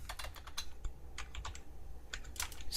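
The ipconfig command being typed on a computer keyboard, a quick, uneven run of close key clicks with small gaps between bursts.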